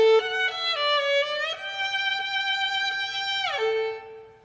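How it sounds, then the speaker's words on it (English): A violin sustains bowed notes with vibrato, playing a few stepped pitches in a clear, close, solo tone, each note held steadily before moving on. "When you put the fingers on the string and then you slightly move your fingertips or your wrist or your arms, and it will sound like this."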